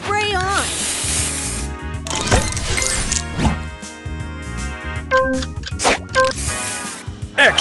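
A spray booster fires in the Match Masters puzzle game: bursts of hissing spray and squishy effects mixed with chimes and bright game tones, under a lively musical soundtrack.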